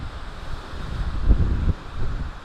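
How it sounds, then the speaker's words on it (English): Strong wind of 25 to 30 mph, gusting to 40, roars across the microphone on a mountaintop just over 7,000 feet in a continuous low rumble, briefly gusting louder midway. "Winds are blowing 25 to 30, gusting to 40."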